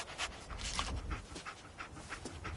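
Dog panting in the Fallout 4 video game, a steady rhythm of quick breathy huffs, close but fairly quiet, continuing without any talking.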